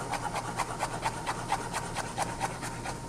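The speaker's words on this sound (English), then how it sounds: "we're gonna do a nice chop of our garlic" Kitchen knife chopping garlic on a cutting board, a quick, even series of light taps, about four per second, close and fairly quiet with no talking.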